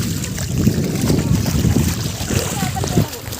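Evening wind blows across a sandy riverside, a steady broadband rush with gusty rumble against the microphone and faint splashing, while people talk faintly underneath.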